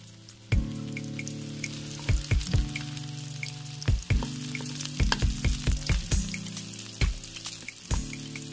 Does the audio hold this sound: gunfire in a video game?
no